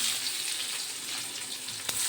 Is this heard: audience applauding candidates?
no